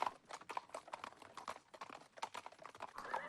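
Horses' hooves clip-clop in a steady, brisk rhythm as French army officers ride behind marching troops at the start of the Second World War, the overlapping hoofbeats moderately close and continuous.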